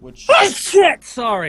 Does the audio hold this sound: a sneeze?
yes